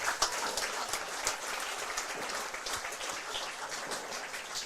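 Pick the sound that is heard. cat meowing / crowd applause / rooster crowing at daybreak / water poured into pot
crowd applause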